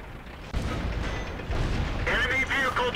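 A Matilda tier 5 premium medium tank fires its main gun in World of Tanks: two heavy booming reports land about a second apart, loud and close, followed by rumbling battle noise and a clipped burst of game voice chatter.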